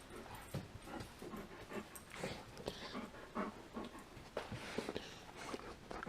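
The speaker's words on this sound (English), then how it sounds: "my good puppies" Dogs pant and whimper close by, with quick rhythmic breaths broken by short high whines and shuffling paws, continuing steadily throughout.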